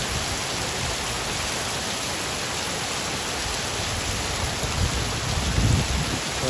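Heavy rain pours down steadily as a dense, continuous hiss that fills the whole stretch at an even level, with some low rumbling near the end and no talk.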